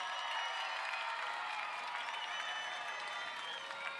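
A football crowd at a Willow Glen vs. Westmont game roars and applauds after a Westmont touchdown, a steady, wash of cheering heard from a distance.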